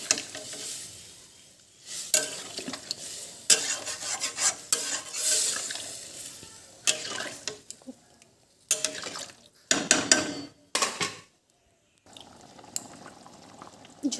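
A pot of curry with water added is stirred as it comes to a boil, with bursts of scraping, bubbling and sizzling in close, irregular clusters separated by brief quiet gaps.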